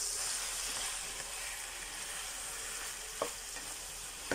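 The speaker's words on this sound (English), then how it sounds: "Stir the beef." Ground beef sizzles steadily in a frying pan with sautéed onions for Filipino-style picadillo, a dense continuous crackle with a couple of sharp scrapes as it is stirred, close and without talk.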